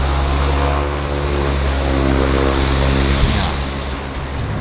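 A floatplane's propeller engine roars steadily at full throttle on departure at Vancouver Harbour, loud and close, a dense droning hum that holds throughout.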